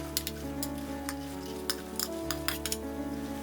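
Cluster beans tossed into a pan with softened onions, sizzling steadily while a spoon scrapes and clinks against the metal in a quick, irregular rhythm; a low tonal hum runs underneath, with no voices.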